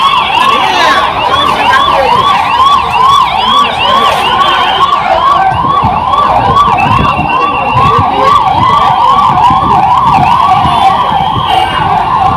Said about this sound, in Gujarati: હમણાં એક એમ્બ્યુલન્સ આટલું જગ્યા કરે છે